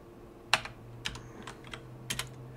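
Computer keyboard keys pressed in Emacs while customizing the elfeed feed reader, about half a dozen sparse, crisp clicks in a short irregular burst, close and alone with no talk.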